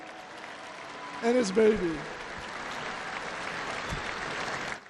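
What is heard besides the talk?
rally crowd applause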